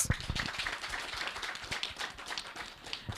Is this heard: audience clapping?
yes